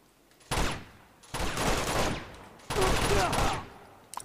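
9mm pistol fire in Uncharted 2 during a firefight, three loud, dense bursts of rapid shots close by, separated by brief gaps, with a small pop at the very end.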